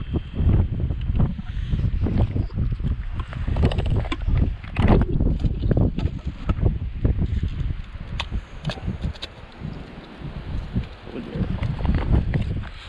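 Strong gusty wind blows across a frozen lake during ice fishing with tip-ups, roaring and buffeting the microphone in continuous surges for the whole stretch.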